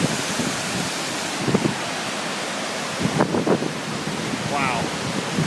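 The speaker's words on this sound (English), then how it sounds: "That is Horsetail Falls behind us." Horsetail Falls on the Dry Creek Trail gives a steady broadband rush of falling water, with wind buffeting and a few brief voices over it.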